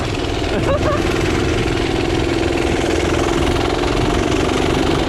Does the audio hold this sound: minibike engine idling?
yes